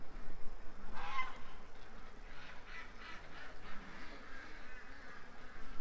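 Ducks quack and honk at a distance over a steady outdoor background hiss, with several faint calls scattered through a few seconds.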